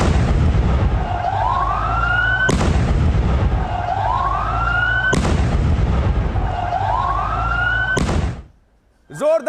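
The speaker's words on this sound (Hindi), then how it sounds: "जोरदार विस्फोट, धमाकों की गूंज सबने सुनी" Wailing emergency sirens sweep upward again and again while loud explosion blasts burst out at regular intervals, then cut off abruptly, in street footage from Syria.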